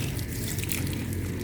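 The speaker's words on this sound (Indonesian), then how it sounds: "Oke, lanjut kita siram" Water is poured over fertilized strawberry plants, a soft, steady splashing and trickling that stays faint and continuous throughout, with no talk.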